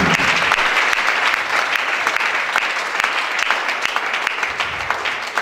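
Church congregation applauding together, a loud continuous burst of many hands clapping that stays dense and full from start to finish.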